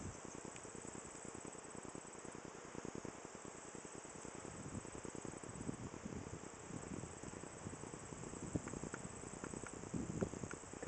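Bees swarming at a beehive outdoors give a dense, steady insect buzz with rapid pulsing, close and continuous throughout, with no speech.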